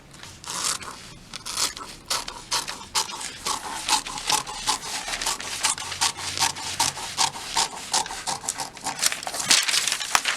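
Scissors snip repeatedly through fabric as excess is trimmed from a sleeve pattern, giving a quick, irregular series of crisp close cuts with paper-like rustling between them.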